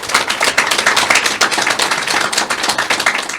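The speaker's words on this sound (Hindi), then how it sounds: "एक बार तालियां बजा के बता दूंगा" A live audience at a Hindi poetry recital claps together in dense, continuous applause, loud and close, holding steady for the whole stretch with no voices over it.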